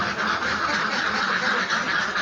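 A flock of young laying ducks quacks continuously in a dry pen, a dense, steady chorus of overlapping calls close by.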